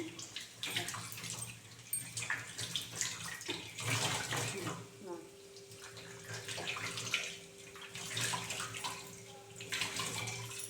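Water poured and splashing while an aquarium fish tank motor is being cleaned, a steady running flow with irregular splashes, close by, with someone talking intermittently over it.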